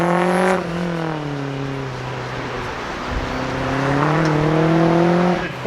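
A Ford race car corners on the track at the Carlisle Ford Nationals street shootout, its engine loud and close, the pitch dipping through the curve and then rising again as it accelerates out.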